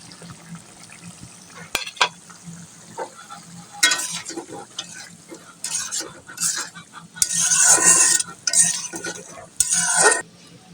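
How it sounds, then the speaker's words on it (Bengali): Tomatoes and potatoes sautéing with spices in a pan while broccoli is being cooked with hilsa fish, giving intermittent bursts of sizzling and stirring scrapes with quieter gaps and a low steady hum beneath. "টমেটোগুলো দেওয়ার পর আলুর সাথে একসাথে কষিয়ে নিচ্ছি"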